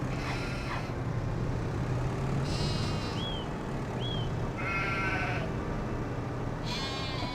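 Sheep in a farm enclosure in the Farming Simulator 25 video game bleat several times, each call short and fairly clear, over a steady low rumble of background engine noise.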